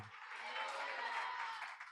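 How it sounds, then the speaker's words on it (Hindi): A church congregation bursts into one sustained round of clapping, a dense, steady wash of many hands that holds evenly for about two seconds. "जोर से एक बार ताली बजाओ।"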